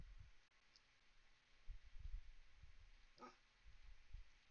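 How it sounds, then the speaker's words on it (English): A dog barking indoors, one short, clear bark in the middle against a faint background of low thumps and quiet room noise. "My dog's chiming in."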